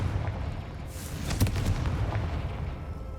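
A Confringo blasting spell in Hogwarts Legacy goes off as a single fiery burst with a short crackling blast near the middle, set against a low steady rumble of game ambience.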